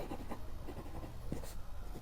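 Pen or marker strokes writing out an arithmetic progression math problem, a quiet steady scratching with short taps and pauses, close and faint with no talking.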